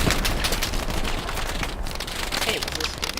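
A 20mm autocannon fires in Hell Let Loose, a dense, continuous rattle of rapid shots with booming impacts mixed into loud battlefield noise over the whole stretch.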